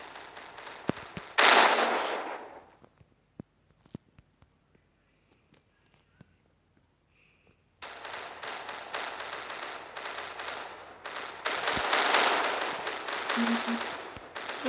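Gunfire in a Minecraft PUBG-style video game: a loud burst of shots followed by scattered sharp single cracks in near silence, then a long stretch of dense, noisy firing and action sounds.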